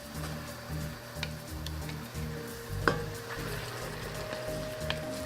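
Salmon sizzles in a stir-fry pan with sauce, a steady close frying hiss broken by occasional sharp ticks and pops of utensils, with no voices.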